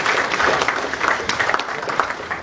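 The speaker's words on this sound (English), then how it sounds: "Let's clap for him." Audience applause at a jazz and poetry literary festival, a dense steady patter of many hands clapping close by for about two seconds with no talk over it.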